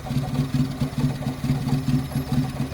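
A rare Toyota engine with a blown head gasket runs close by in a rough, throbbing pulse, a heavy low thumping rhythm that repeats steadily without clear rising revs.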